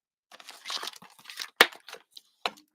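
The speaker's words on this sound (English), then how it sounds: "I'm going to grab an additional leaf and I'll fussy cut that out" Scissors fussy cut a paper leaf in a quick series of close, crisp snips and rustles, with one sharper cut partway through.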